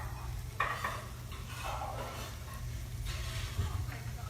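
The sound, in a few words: panko-coated pickled green tomatoes searing in a pan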